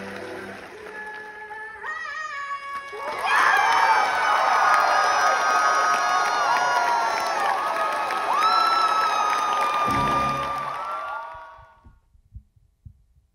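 Broadway audience at a Wicked re-opening night, cheering and screaming in a dense, loud roar with shrill shrieks that builds, holds for several seconds, then drops sharply to scattered sounds.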